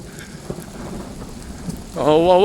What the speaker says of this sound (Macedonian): Како грми, како пука.